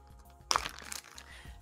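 A plastic food storage bag is picked up and handled, giving a short crinkling crack followed by softer rustling, close and moderately loud, with no talk over it.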